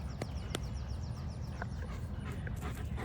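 A dog whimpers in short high cries between quiet pants, the calls brief and spaced over a steady low background rumble, fairly close.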